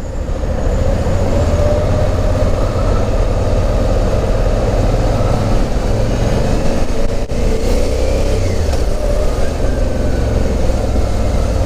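Suzuki V-Strom 650 motorcycle pulling away in first gear on a freshly paved city street, a loud, close, steady engine drone with wind rumble throughout.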